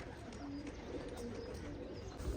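Soft, low cooing of racing pigeons murmurs faintly at a distance in an otherwise quiet setting.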